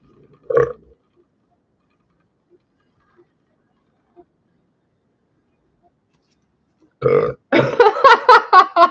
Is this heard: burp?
yes